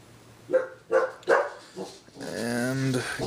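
A dog barks four times in a quick uneven series, then lets out a longer whining howl, fairly close and clear.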